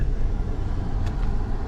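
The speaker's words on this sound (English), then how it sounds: "I heard a car coming behind me." A car approaches along a road, a steady low rumble of engine and tyres at moderate distance with no one talking.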